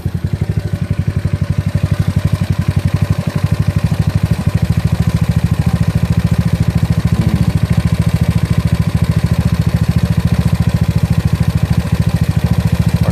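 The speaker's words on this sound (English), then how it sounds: "it takes about 2 seconds to hold before the engine actually cranks over" A GY6 scooter engine fitted with an OKO PWK 30mm carburetor runs at a steady idle, a loud close rapid putter with an even exhaust pulse throughout, no voices.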